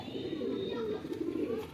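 A male low-flyer tournament pigeon at a home loft gives a steady, low, rolling coo, close and fairly loud, with faint background noise throughout.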